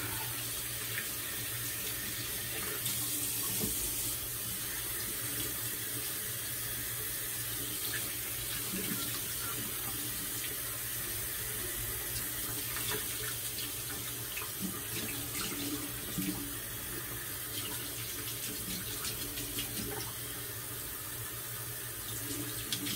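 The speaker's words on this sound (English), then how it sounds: "just rinsing off my puck here" Steady tap water runs and splashes while a shaving soap puck is rinsed at a sink, a continuous close hiss with no talking.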